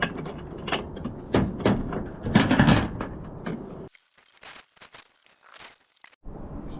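Wrench turning bolts on a roof rack cargo box, with scattered metallic clicks and ratcheting taps up close, followed by lighter rattling bursts.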